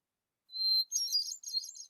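A hermit thrush sings a single phrase: a clear, pure sustained opening note followed by two quick, fluty, tumbling flourishes pitched higher, isolated against silence.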